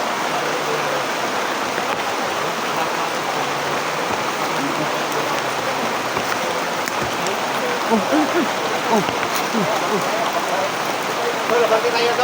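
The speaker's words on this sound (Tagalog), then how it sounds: "napakalakas talaga ng ulan no" Heavy rain pours in a dense, constant hiss, loud and close, with a few scattered drips and faint voices under the downpour.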